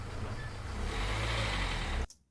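A car driving away, used as a film sound effect: a steady engine drone with low rumble that holds for about two seconds, then cuts off abruptly into near silence.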